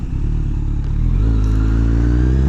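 A motorcycle engine drones loud and close while riding, its pitch climbing steadily as it revs up and accelerates, with no voices over it.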